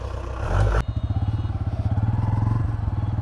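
A motorcycle pulls away and keeps running close by, its engine throbbing in a steady, rapid pulse after an initial loud burst of revving.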